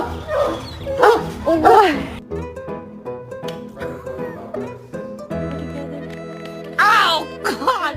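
Dog barking and yipping in short bursts over background music, with several loud yelps near the start and again near the end, fairly close.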